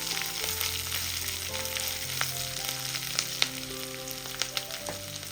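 Green chillies frying in oil in a pan, a steady soft sizzle near the mic with a few sharp crackles and spoon-stirring clicks, no talking.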